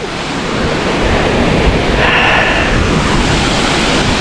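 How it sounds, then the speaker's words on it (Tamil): Water crashes down steadily at Aberdeen Waterfalls in a natural setting, a dense, loud, continuous roar close by with no voices. "அப்படியே பார்த்தோம்னா நேச்சரோட அப்படியே வாட்டர்ஃபால்"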